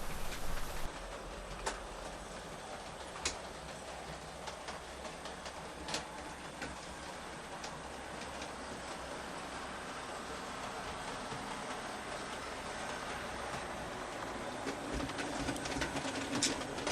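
Gladstone steam locomotive arriving at a harbour line hauling a director's inspection coach, a steady low rumble of rolling wheels with sharp intermittent clicks and clanks over the rails, moderately distant and fairly quiet, without any voices.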